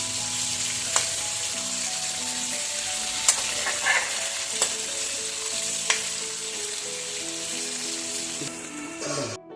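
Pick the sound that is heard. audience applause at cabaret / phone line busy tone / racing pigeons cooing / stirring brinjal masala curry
stirring brinjal masala curry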